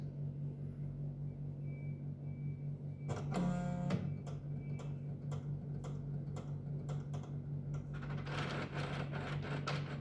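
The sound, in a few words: dot matrix printer (28XX series) initializing after power-on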